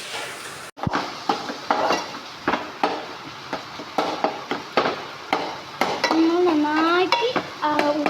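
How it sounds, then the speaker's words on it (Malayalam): Tomatoes and curry leaves are stirred in a pan for fish curry, a spoon scraping and knocking against the metal in a steady rhythm over a faint sizzle, with a whistling squeal near the end. "ഇതിലേക്ക് തക്കാളിയും കറിവേപ്പിലും ഇപ്പം ഞങ്ങൾ ആഡ് ചെയ്ത് കൊടുത്തിട്ടുണ്ട്. നമുക്കിത് ഇളക്കിയെടുക്കാം."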